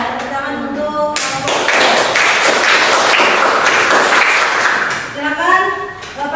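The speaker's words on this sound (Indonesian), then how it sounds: "Tepuk tangan untuk" A classroom audience at a university teacher-training session breaks into loud, dense clapping that swells after a second, holds steady, then thins out, with voices heard at the start and end.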